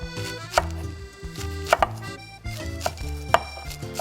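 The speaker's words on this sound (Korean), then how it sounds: "근데 배추니까 약간 옆으로 사선으로 아. 이렇게 썰어주세요. 칼 조금만 누여서 썰어주시면 돼요." Napa cabbage cut diagonally with a knife on a board, giving a series of close, crisp chops in uneven rhythm, some in quick pairs, with no voices over them.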